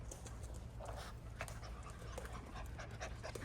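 Bear, a doodle puppy, pants in quick, steady, rhythmic breaths close by, quiet and alone, with a faint little whimper among them.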